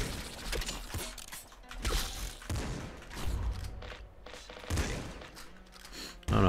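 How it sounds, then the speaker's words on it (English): Machine gun fire in the top-down shooter Nuclear Throne, quick rattling bursts with mechanical clacks and thuds layered over busy game sounds, steady and fairly loud throughout. "Machine gun."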